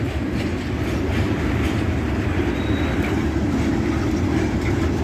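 A loud, steady rumble of a locomotive on a railway siding, with a continuous low mechanical drone and no pauses.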